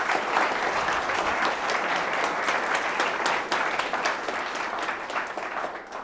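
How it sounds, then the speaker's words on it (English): An audience at a motivational speaking event in London applauding a speaker's introduction, a sustained, even wash of many hands clapping at moderate distance, with a few sharper individual claps standing out and the clapping thinning slightly toward the end. "let's give a round of applause for Mike"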